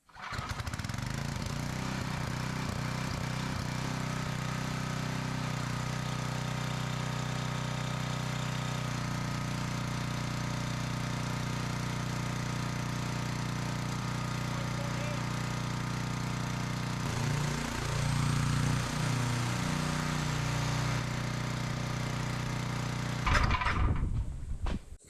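A repaired portable generator runs steadily under a heavy load of two space heaters and a circular saw, its engine droning loud and close with a shift in pitch partway through, before the saw briefly whines near the end.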